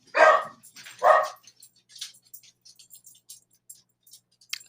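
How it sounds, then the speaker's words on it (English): Two loud, close dog barks in quick succession, followed by quieter scattered yips and rustling noises. "I don't know why my dogs are barking."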